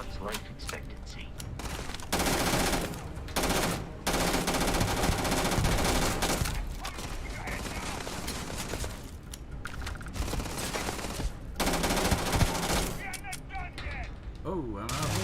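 Rapid bursts of automatic gunfire and mechanical clatter from the video game Starfield come in loud volleys separated by brief lulls, with a voice heard faintly at times.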